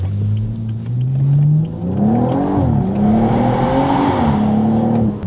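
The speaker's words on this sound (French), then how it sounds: "Là, on est avec une magnifique Corvette. On est sur une C8, hein, je crois." Chevrolet Corvette C8 supercar driving on a road, a loud close engine drone that rises in pitch as it accelerates, dips briefly and then holds a steady tone.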